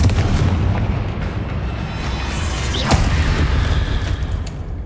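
Booming explosive blasts and heavy rumble from a Confringo spell in a Hogwarts wizarding video game, loud and continuous with a sharp hit near the middle, no voices.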